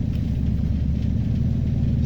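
A warmed-up V8 running on a lawn mower carburetor idles with a steady, loud, deep rumble that holds even for the whole stretch.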